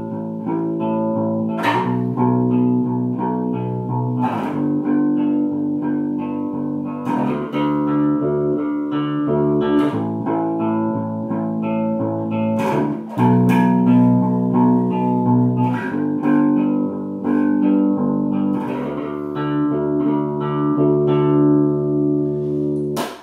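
Bass guitar playing a steady octave pattern, thumb-slapped low notes alternating with popped high notes picked with the index finger, loud and continuous with no talking.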